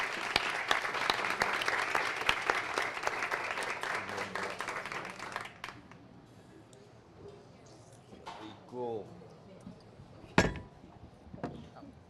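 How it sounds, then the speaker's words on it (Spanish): Studio audience claps to welcome guest Gloria Luz Toro on a talk show, dense applause for several seconds that thins out and fades, followed by scattered claps, a voice and a sharp knock. "Vamos a darle un fuerte aplauso y la bienvenida a nuestra invitada especial, nada más ni nada menos que Gloria Luz Toro."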